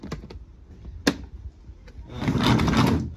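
A pull-out storage drawer in a truck-mounted pressure washer rig clatters with a few knocks and a sharp bang, then slides out with a rising rumbling scrape.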